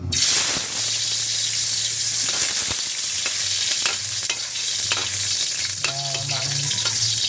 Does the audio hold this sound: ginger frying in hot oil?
yes